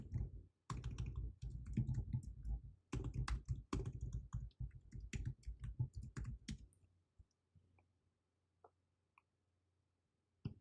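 Steady typing on a computer keyboard, fairly close, in quick bursts of key clicks that thin out to a few isolated taps near the end, with no talk.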